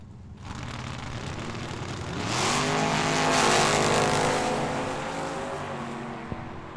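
Two third-generation Camaro drag cars launch at Tucson Dragway, their engines rising from a throaty idle into a loud, swelling roar that peaks and then fades as they pull away down the strip.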